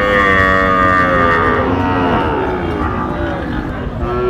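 At Tekerhat cattle market before Qurbani Eid, a cow gives one long, loud, drawn-out moo close by, over a steady murmur of the busy market.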